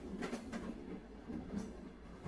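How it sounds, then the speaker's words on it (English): A passenger train carriage running along the rails, a low rumbling roll with a rhythmic clickety-clack of wheels over joints, steady and moderately faint, with no talking. "I lose myself in the rhythm of the rails, lulled by the gentle swaying of the carriage"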